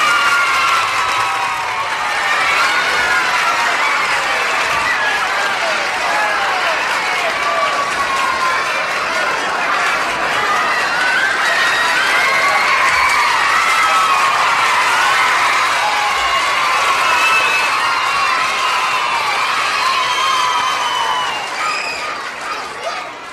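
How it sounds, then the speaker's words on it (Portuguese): A live audience at a 1970s comedy show breaks into sustained applause mixed with cheering and whistles, a dense, loud, continuous crowd roar that fades slightly at the end. "E aqui está, para os seus aplausos, Barnabé Segundo!"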